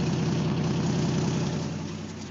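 A cold car engine idles steadily up close, its valves clattering lightly with a faint ticking from a small exhaust leak at the flange, running on a stock replacement muffler.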